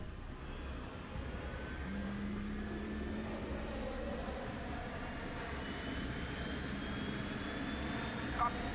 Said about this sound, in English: let's go ahead, put these puppies' engines on